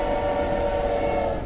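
A steady, loud train horn blares in a video game, a sustained tonal blast that lasts the whole moment with no talking.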